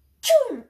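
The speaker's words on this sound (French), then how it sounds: "Pardon, j'éternue" A single abrupt human sneeze bursts out close and loud, with a sharp breathy onset that trails off into a falling voiced tail.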